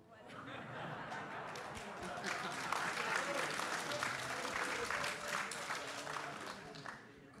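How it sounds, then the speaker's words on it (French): Crowd of Bretons applauding at a political party gathering in Guidel, a sustained wash of clapping swelling in the middle with scattered laughter and chuckles mixed in, fading slightly toward the end. "Applaudissements des Bretons"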